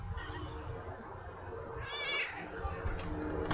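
A pet cat gives a single clear meow about midway, close by, over a low rumble of background noise.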